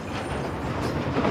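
A freight train rolls along railway tracks in southern Africa, giving a steady broad rumble and rattle of wheels and cars for about a second and a half, with no voices over it.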